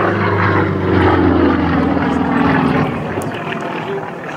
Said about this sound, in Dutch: 360 pk radiale motor die ervoor zit